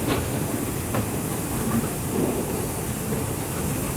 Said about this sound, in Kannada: ಅದು ಡೈರೆಕ್ಟ್ ಟ್ರೈನ್ ಮೂವ್ ಆಗಿಂದ ಗೊತ್ತಾಗತ್ತಿ ನಮ್ಮ ಟ್ರೈನ್ ಡಿಪಾರ್ಚರ್ ಆದಂತಂದು